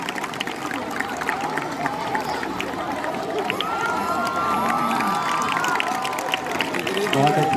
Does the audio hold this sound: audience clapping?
yes